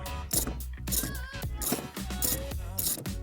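A 14mm socket ratchet loosens the seat screws in a Honda CR-V, bursts of rapid clicking repeating in short strokes, close and fairly loud, with a few metallic knocks between them.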